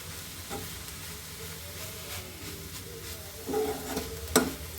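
Food being stirred in a pan on a food truck stove, a low steady sizzle with soft scraping, a couple of louder utensil clatters near the end.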